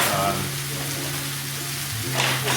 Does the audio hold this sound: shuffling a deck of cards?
no